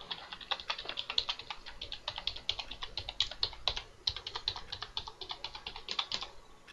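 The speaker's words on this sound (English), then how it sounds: "Let's press every other button under the key on the keyboard." Keys on a computer keyboard are pressed in a quick, uneven run of sharp clicks, close and clear, continuing for several seconds with no speech.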